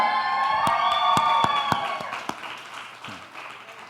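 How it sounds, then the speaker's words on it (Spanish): A church congregation gives a scattered round of applause, a handful of sharp separate claps ringing out over a sustained tonal background and murmuring voices, thinning out after a couple of seconds. "¿Alguien la aplaudió por ahí?"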